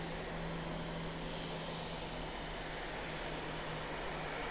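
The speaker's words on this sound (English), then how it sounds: "Another Southwest, the Dallas Love flight on final for 28 left." A Southwest airliner on final approach to runway 28 left at Columbus John Glenn airport gives off a steady, distant engine roar that holds level throughout, with no voices.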